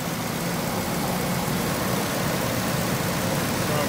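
A 2006 Lincoln Navigator's 5.4L 3V V8 idling: a steady, even engine drone with a low rumble, heard close and fairly loud, holding the same level throughout.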